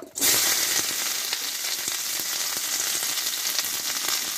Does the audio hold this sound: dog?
no